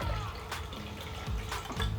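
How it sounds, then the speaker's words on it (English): Filtered RV drinking water pouring from a tap into a glass, a soft trickle and splash heard close up with faint background noise. "So that's pouring a nice little glass here"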